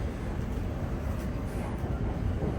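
London Overground Lioness line train running along the tracks toward Watford Junction, a steady low rumble of wheels and carriage noise filling the whole stretch, close and constant.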